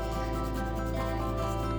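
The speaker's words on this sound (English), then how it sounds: "If you're sanding, please remember to use a mask because sanding makes a lot of dust." Sandpaper rubbing over a piece of air dry clay, a steady close scratchy rasp of repeated quick strokes that runs continuously without pause.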